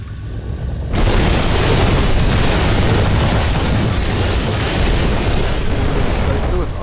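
Continuous loud, roaring explosions and crumbling destruction in the video game Instruments of Destruction, a dense wall of booming blasts that bursts in suddenly and sustains throughout.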